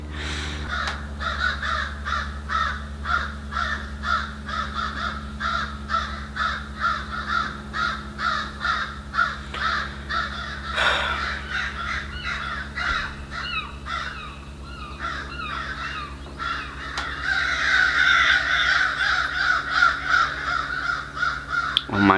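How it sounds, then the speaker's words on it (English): Crows caw loudly outside in a rapid, repeated series of harsh calls that keep going throughout, growing denser and louder toward the end, close to the microphone. "There are a lot of really loud birds."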